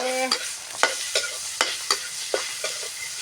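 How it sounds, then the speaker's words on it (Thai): Pork with spring onions stir-fried in a pan: steady sizzle broken by about eight rhythmic scraping strokes of the spatula, close and clear, with no talk. "ผัดไปเรื่อยๆก่อน"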